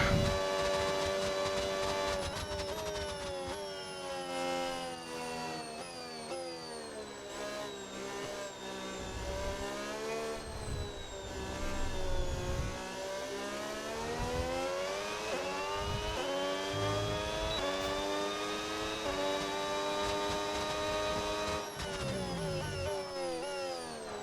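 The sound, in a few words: race car engine in F1 26 video game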